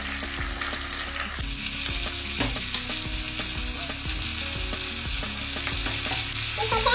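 Tomatoes hit golden-browning onions in a pan for a fish stew, setting off a steady, close sizzle with stirring scrapes and soft clinks running throughout, no voices.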